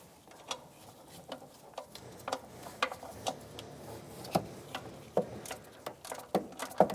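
A ratchet working loose a 13 mm exhaust manifold bolt on a 1992-1996 Ford F-150, giving a run of close, sharp metallic clicks in uneven bursts with no talking.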